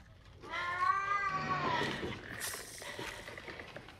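A cat in the film Sting (2024) lets out a drawn-out, wavering meow up close, followed by quieter rustling.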